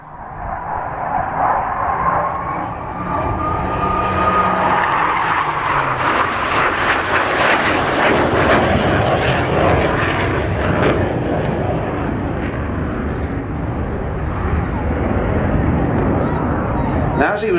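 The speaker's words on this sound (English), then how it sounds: "Rolls-Royce Avon won out, and that's the engine you're listening to now." A Hawker Hunter jet with a Rolls-Royce Avon engine roars past at an airshow in East Fortune, a loud sustained turbine rumble and whine swelling and fading as it passes, with a commentator speaking over it.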